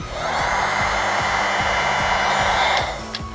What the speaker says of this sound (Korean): 친구들, 실제 드라이기는 뜨거우니 부모님께 도움을 받는 게 좋아.